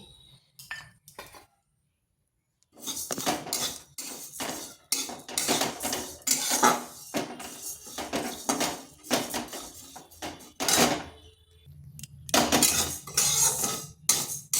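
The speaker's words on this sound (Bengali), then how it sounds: "এখানে কড়াই বসিয়েছি আর সামান্য মুগ ডাল ভেজে নিচ্ছি" Mung dal being dry-fried in a wok, with a spatula scraping and clinking against the metal in quick, irregular bursts. The sounds are close and fairly loud, with a short quiet stretch near the start and no talking.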